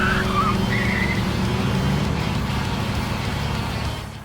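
A sports car races with its turbocharger engaged in the Trails Through Daybreak video game, giving a steady loud engine roar with a brief tire squeal early on before the sound fades at the end.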